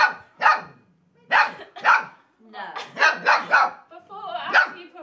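A Golden Retriever puppy barks repeatedly in short bursts, loud and close, with brief pauses between clusters of barks.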